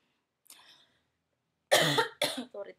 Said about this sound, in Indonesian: Sorry teman-teman, saya batuk.